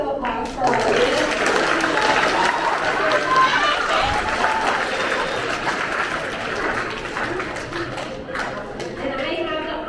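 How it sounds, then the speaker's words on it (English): Applause and crowd noise from an audience at a veterans' assembly, a continuous loud wash of clapping and murmuring voices with some people talking over it. "Let's do another round of applause for our audience"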